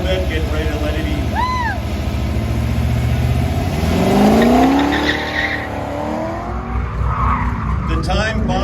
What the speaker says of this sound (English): 1991 Chevrolet Corvette, getting ready to let it eat.